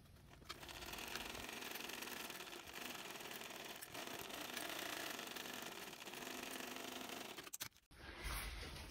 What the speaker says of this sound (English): we're going to baste this into place with 1/8 inch seam allowance